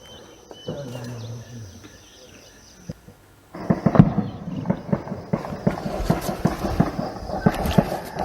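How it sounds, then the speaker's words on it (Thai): Gunfire from fighting between armed forces on the Thai-Myanmar border: after a quieter start with faint birds, a sustained stretch of sharp distant shots and bursts cracks on repeatedly over outdoor ambience. "เราจะได้ยินเสียงการประทะกันด้วยนะคะ"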